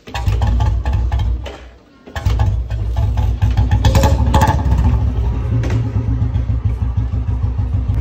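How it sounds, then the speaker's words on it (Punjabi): A Royal Enfield Bullet motorcycle engine runs loud and close with a loose drive chain, a steady low thumping idle with clattery rattling on top, briefly dipping around two seconds before resuming. "ਤੇ ਬਾਈ ਬੁਲਟ ਦੀ ਹੋ ਗਈ ਚੈਨ ਢਿੱਲੀ,"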